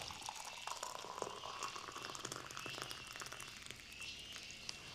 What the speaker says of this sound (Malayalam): കെറ്റിൽ തിളച്ച വെള്ളം,